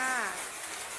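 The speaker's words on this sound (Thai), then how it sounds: "ฟังเสียงฝน" Rain falls as a steady, broadband hiss, with a brief tonal voice-like sound at the very start fading into the wash.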